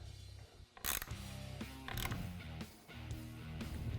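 Metal parts of a K&N cold air intake tube connector being bolted on, giving close ratcheting clicks and creaks with a few sharp knocks, without speech.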